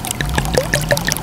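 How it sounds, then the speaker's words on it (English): Warm syrup is poured over a bowl of popcorn, a brief, close, steady trickling pour with light liquid splashes. "So now I'm just gonna pour this over the top."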